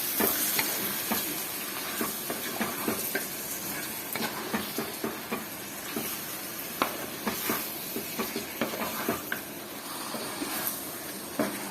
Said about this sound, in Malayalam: ചിക്കനും മസാലയും കൂടെ നമ്മൾ മിക്സ് ചെയ്തിട്ടുണ്ട്.